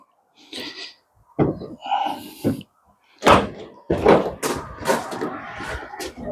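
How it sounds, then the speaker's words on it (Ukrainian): The rear doors of a 2025 Opel Movano H2L3 van clunk and thud as they swing open, a series of separate mechanical knocks and latch sounds close by. "Задні двері відкриваються у нас на 270 градусів."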